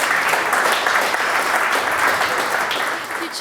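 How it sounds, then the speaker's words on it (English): A crowd applauds at a startup pitch event, with steady, dense clapping that holds loud and even for a few seconds before easing slightly at the end. "so round of applause"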